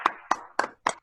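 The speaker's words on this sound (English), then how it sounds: "Give a round of applause." Online meeting participants applaud over unmuted mics, heard as four or five sharp, evenly spaced claps, close and distinct rather than a full crowd.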